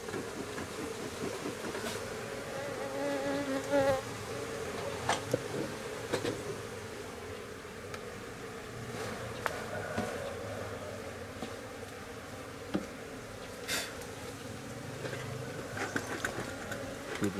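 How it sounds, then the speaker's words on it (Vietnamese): Honeybees swarm around a hive during a lychee-honey harvest, a dense, steady buzzing close by, with a few sharper bee passes and faint clicks mixed into the drone. "ong đợt này thì nó khá là dữ đấy."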